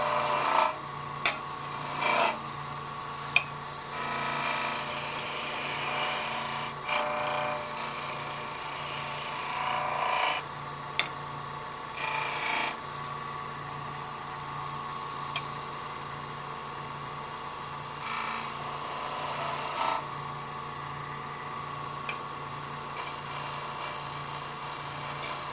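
A wooden piece being tapered on a woodturning lathe, with a continuous rasping, scraping tool-on-wood sound over a steady motor hum, broken by several short pauses and repeated passes.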